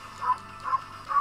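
Three short, faint yips from a cartoon dog in the game Okami, evenly spaced about half a second apart over a soft steady background.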